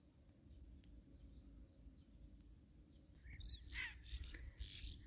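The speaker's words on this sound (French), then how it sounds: "Juste à écouter les oiseaux." Faint birdsong from a group of birds along the Loire river, a few brief chirps and trills rising late over a low, steady outdoor rumble.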